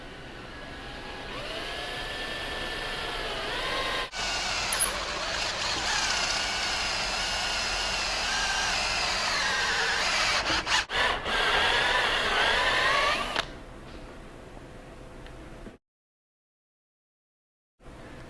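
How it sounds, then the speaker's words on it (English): A drill grinds steadily through wood for over ten seconds boring a large-diameter hole, pitch wavering under load, then cuts off and goes silent. "So we've drilled a large diameter hole."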